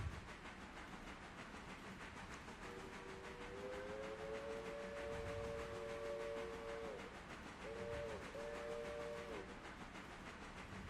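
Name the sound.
passenger train moving up the grade in Railroader video game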